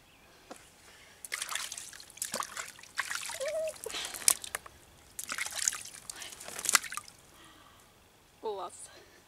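Warm water trickling and splashing outdoors, in soft intermittent bursts of splashes and drips at moderate distance, with someone talking over parts of it.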